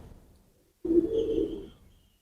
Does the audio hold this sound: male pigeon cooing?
yes